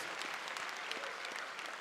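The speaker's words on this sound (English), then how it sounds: "let's properly clap our hands to thank the Treasurer General of the African National Congress" Dense, continuous clapping from a hall of delegates at the ANC KwaZulu-Natal provincial conference, a short, even burst of applause heard at moderate distance without talk.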